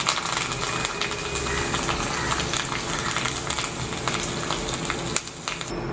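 Red chillies and curry leaves frying in hot oil for a tempering, a steady close crackle and sizzle with occasional sharp pops and faint metallic clinks throughout.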